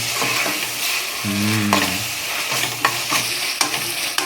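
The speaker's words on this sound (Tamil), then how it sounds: "நறுக்கி வச்சுருக்க தக்காளி பழங்களை உள்ளே போட்டாச்சு" Chopped tomatoes stirred in a hot frying pan while making homemade chicken basmati biryani, a loud close sizzle with scraping stir strokes and no talk.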